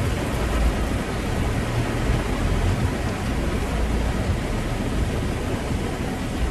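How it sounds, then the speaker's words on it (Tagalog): Heavy rain pours down in a dense, unbroken hiss with a low rumbling undertone, steady and loud throughout with no voices. "Ang lakas pa ng ulan."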